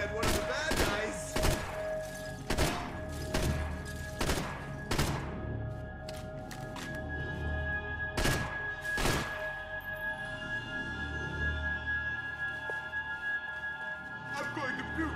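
Gunfire in the Max Payne video game, a run of loud, sharp shots ringing out in bursts and single cracks, with game dialogue spoken over the gaps.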